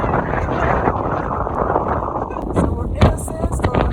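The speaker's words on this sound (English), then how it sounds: "we're in a sandstorm in the middle of the Sahara. It's so windy." Strong, gusty sandstorm wind in the Sahara roars and buffets the microphone with a constant loud rumble, a few sharper gusts cutting through near the end.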